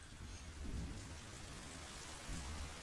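Steady rain hisses throughout the jungle of Metal Gear Solid 3, with low thunder rumbles swelling near the start and again toward the end, no voices over it.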